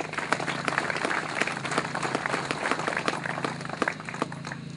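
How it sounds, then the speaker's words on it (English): A crowd at an outdoor fishing event applauds a pipe band, with steady, dense clapping from many hands, fairly close and continuous throughout. "Can I ask you to give them a round of applause?"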